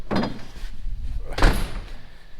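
A shop door on a farm is opened, giving two broadband knocks or bumps with a sliding rattle, the louder one near the end. No one speaks.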